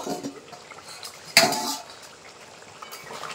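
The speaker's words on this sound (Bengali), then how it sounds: "তো এবার ঢাকনাটা খুলে দেখবো।" A metal lid is lifted off a cooking pot of chicken kosha with a single sharp clink, followed by a soft simmering bubble and light kitchen clatter.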